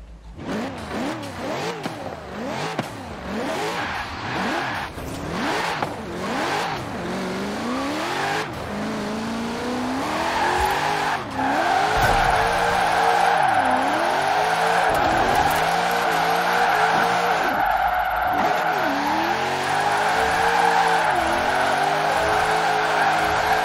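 A Chevrolet Corvette ZR1 drifts in Forza Horizon 4, its engine revving up and down in wavering sweeps while the tires squeal almost continuously through the slides, loud and close with no talking.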